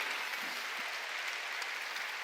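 Church congregation clapping together during a Korean sermon, a dense steady wash of hand claps with no clear speech over it.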